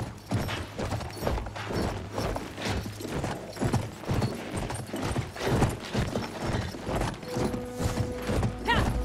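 Horse hooves clip-clop steadily in a Battlefield 1 battle scene with Bedouin riders, loud and close, with an occasional neigh and mechanical clatter mixed in and a voice briefly in the background.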